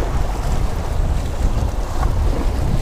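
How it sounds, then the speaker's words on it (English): Strong wind buffeting a microphone while fishing on Chesapeake Bay: a constant, heavy low rumble with broadband rushing noise, loud and unbroken throughout. "it's windy as hell"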